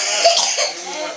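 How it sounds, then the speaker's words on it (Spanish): A single short cough up close, followed by a brief rough throat-clearing sound in a quiet room. "¿Una tos?"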